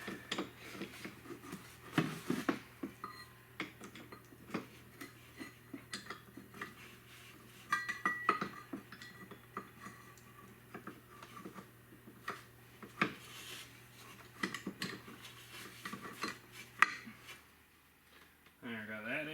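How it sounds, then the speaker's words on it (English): Bolts are fitted into a Polaris wide-track hydraulic brake rotor, with scattered sharp metallic clicks, taps and rattles coming close and intermittently, plus bursts of handling noise under a faint steady hum. "and then put the bolts in"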